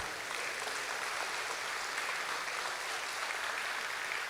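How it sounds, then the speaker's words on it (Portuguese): A church congregation applauds steadily through a worship service at an Assemblies of God church, a dense, even wash of clapping from many hands at moderate distance with no break or voice. "Você pode aplaudir esse Senhor que governa a sua vida."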